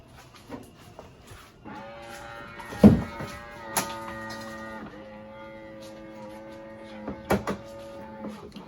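An office espresso machine starts up after its power button is pressed: a quiet electronic hum and tonal whine rise and hold, with a few sharp clicks and knocks from the machine.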